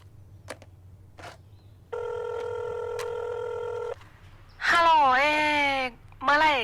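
A phone rings once with a steady two-second electronic trill, then a person begins speaking.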